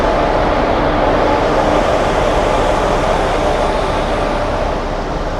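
Seshadri Express passenger train hauled by a WAP-4 electric locomotive from the Vijayawada shed, running between Tirupati and Bengaluru; a steady, loud, close rumble of rolling wheels and carriage noise continues throughout, without talk.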